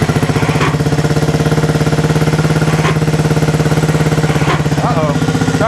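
A 1974 Honda CB360 motorcycle engine turning over on the starter, a loud, steady, rapid mechanical churning held close for several seconds with no catch or change in pace.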